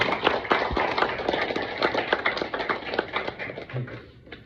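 Audience clapping for honored guests at a Hindi-language public gathering, a dense steady patter of many hands, moderately loud and continuous throughout with no talk.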